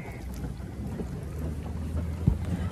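A boat reverses across open water, its engine a low, steady rumble mixed with wind buffeting the microphone and a faint wash of water, with one brief knock near the end.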